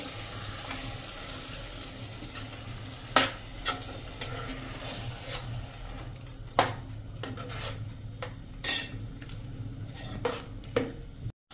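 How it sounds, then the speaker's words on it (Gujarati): Water poured into a pressure cooker holding green tuvar beans, a steady wet rushing wash with a few sharp clinks and knocks of utensil against metal, fairly close. "હવે આ સ્ટેજે આપણે 1 કપ જેવું પાણી નાખી દેશું."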